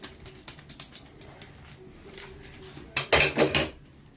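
Callos is stirred in a metal cooking pot, giving a run of light clinks and scrapes that builds into a louder, busier clatter near the end, close and without talk.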